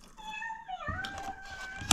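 A cat meows indoors in a home in Finland, a couple of close, clear drawn-out meows, the second with a rising then steady pitch, fairly quiet.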